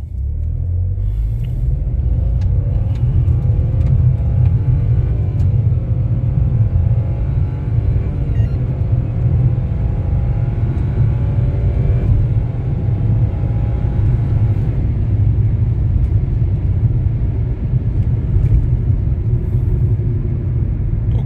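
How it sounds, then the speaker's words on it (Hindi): Nissan Magnite turbo CVT car accelerating hard from a standstill to 100 km/h in Drive, a loud continuous low engine rumble and road drone that stays strong and even throughout, with a faint rising whine from the transmission. "यहाँ पे हम चेक करेंगे कि गाड़ी की डी की एक्सेलरेशन कैसी है"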